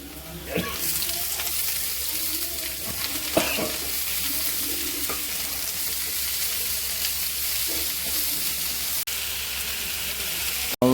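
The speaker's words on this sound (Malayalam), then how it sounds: "നമ്മൾ തേങ്ങാക്കൊത്തും നമ്മുടെ മുളകും എല്ലാം നല്ല ഫ്രൈ ആയി വന്നിട്ടുണ്ട്" Onions frying with coconut pieces and chillies for Bakrid beef varattiyathu, a loud, dense, steady sizzle throughout with a few stirring knocks early on and a sharp clack at the close.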